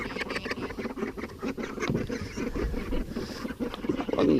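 Several domestic ducks rush out of an opened coop in the morning, a busy mix of quacks, flapping and pattering feet close by, growing louder toward the end.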